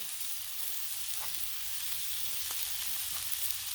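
Country fried steak sizzles on a Blackstone griddle, a steady, broad hiss of frying with faint occasional pops and scrapes, close and continuous with no talking.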